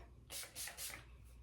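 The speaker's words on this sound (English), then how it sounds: "I'm just gonna spray and then scrunch and just see what we get." Three quick hissing bursts of sea salt spray misted onto a synthetic wig, close and fairly soft, with short gaps between each spritz.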